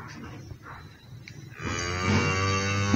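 Cattle mooing on a small farm that also holds chickens, goats and sheep, ending in one long, loud, close low moo after quieter background sounds.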